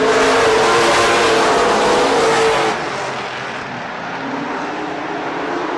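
Race cars at Rockford Speedway in 1994 roar together as the field accelerates on the green flag, a loud dense engine blare that drops off partway through as the pack moves away.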